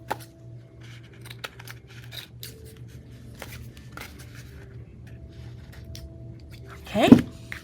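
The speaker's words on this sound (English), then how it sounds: "So I'm just going to go along the edges and just trim my edges" Paper pockets being trimmed along the edges with craft scissors, a single short, sharp snip near the end over a quiet room with a low steady hum.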